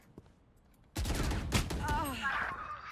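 Gunfire in the video game Valorant: after a quiet first second, a loud, dense burst of rapid shots erupts and keeps rattling in quick succession, with a faint voice now and then.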